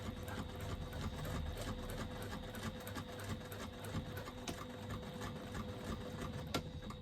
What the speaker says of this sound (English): Try and make sure that the seam allowances stay open as you stitch across them.